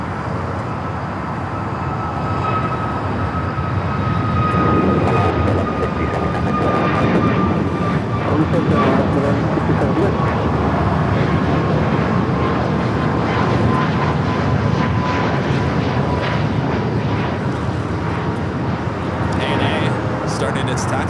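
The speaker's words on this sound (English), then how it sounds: "The flight taking off was Alaska Airlines Flight 1167 heading to Portland at a 737 MAX 8." An Alaska Airlines Boeing 737 MAX 8 jet taking off at Los Angeles International Airport, a loud sustained engine roar with whining tones, heard from nearby for the full length and steady throughout, with speech over it.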